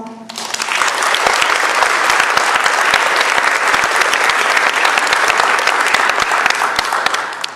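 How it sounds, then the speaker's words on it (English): An NJROTC graduation crowd bursts into loud, sustained applause for Lieutenant Guzman, the clapping swelling quickly and holding thick and even until it tapers at the end. "Please give Lieutenant Guzman a round of applause."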